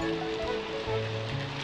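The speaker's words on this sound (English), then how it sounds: "Rain is very important, Gertie." Steady rain falls in a children's weather lesson, a continuous hiss of drops with some low tonal background sounds underneath, no speech.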